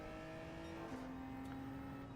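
A Genesis race car in Gran Turismo 7 drones along at a steady engine pitch, which steps down once partway through as it shifts, sounding quiet and distant.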